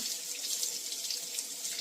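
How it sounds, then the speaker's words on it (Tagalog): Water runs from a tap into a sink while chicken feet are rinsed, a steady close splashing hiss that lasts the whole moment, with no talking. "Running water."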